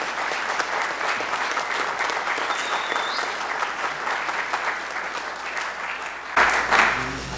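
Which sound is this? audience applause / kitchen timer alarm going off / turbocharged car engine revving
audience applause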